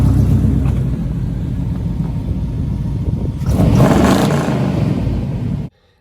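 A Chevy OBS pickup truck's engine running close by, a loud continuous rumble with a brief rise in revs midway before the sound cuts off abruptly at the end.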